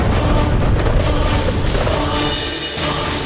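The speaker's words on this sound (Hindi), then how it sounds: "वहां रखे समस्त दिव्य शस्त्र भयानक विस्फोट में भस्म हो गए।" An armory stocked with divine weapons blows up as it burns, heard as a loud, sustained rumbling blast with dense crackling booms throughout.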